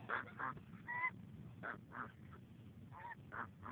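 A flock of geese honks repeatedly in quick, irregular bursts, several birds calling over one another at moderate distance.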